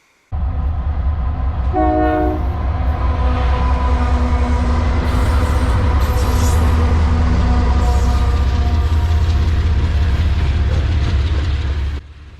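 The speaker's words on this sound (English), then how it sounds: "This is a fully loaded ethanol train headed from Proviso, Illinois down to Burkeville, Alabama." A heavy, fully loaded ethanol freight train rumbles past close by, a steady loud roar of rolling cars with a brief horn-like tone early on, continuing unbroken until it ends.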